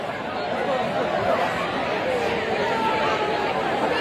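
Hundreds of students at a Pennsylvania circumcision protest create a dense, steady wash of crowd chatter. The loud murmur carries on without a break, with no single voice standing out.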